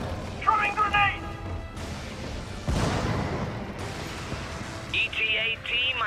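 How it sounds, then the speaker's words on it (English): Grenade blast in the Helldivers PC game during a solo bug mission: a loud broadband burst around the middle of the stretch, among other game effects, with tonal electronic chirps and a voice around it. "Grenade! Throwing grenade!"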